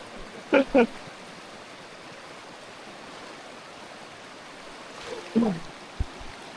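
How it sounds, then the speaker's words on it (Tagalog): Steady rushing water of a strong river current flows continuously, a broad roar, with a couple of brief voice bursts near the start and end. "Malakas na yung current ng ilog."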